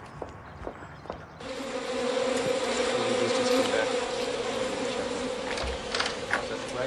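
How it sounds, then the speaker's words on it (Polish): Bees buzz in a laboratory: a steady, fairly loud droning hum swells in after a quiet start and holds, with scattered small clicks and knocks around it. "Byłam ciekawa, jak tam twoje pszczoły."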